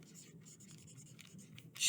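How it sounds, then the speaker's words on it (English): Pen writing on a craft decoration, soft scratchy strokes close up in a quiet room, ending in a louder rasping swipe. "we can just write something like"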